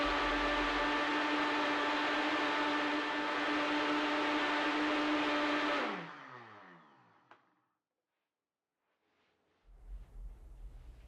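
A blender whirs steadily at high speed while blending dates into a paste with a tamper, then winds down and stops, leaving near silence and some faint handling noise.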